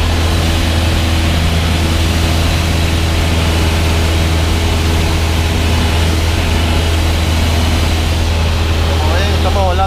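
Small aircraft cruising in cloud on instruments during an instrument-rating training flight: a steady, loud drone of engine and cabin noise fills the cockpit continuously, with a low constant hum underneath.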